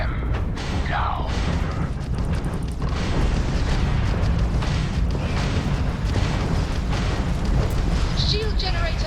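A shield generator blows apart in a Starfield space battle: a loud, continuous rumbling explosion with booming bursts and crackling debris that fills the whole stretch, with no voice over it.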